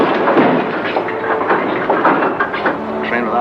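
A train running through a cemetery, a loud, steady rumble with rhythmic clattering of wheels and rail cars, close and continuous.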